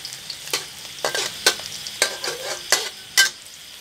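Garlic stir-fries in soybean oil in a pan, a continuous crackling sizzle broken by about six brisk scraping strokes from a spatula at a steady pace.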